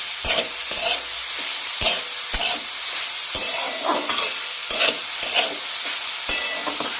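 Khesari greens frying in a pan with a continuous loud sizzle, broken every second or so by the scrape and clack of stirring, close by and without talk.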